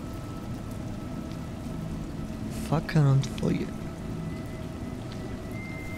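In the video game A Juggler's Tale, steady rain hisses in the background while someone narrates briefly in the middle, the downpour continuing evenly beneath and around his voice.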